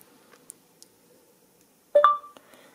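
Short electronic start beep from a phone's voice recognition feature, a single bright tone rising out of near silence after a few faint clicks.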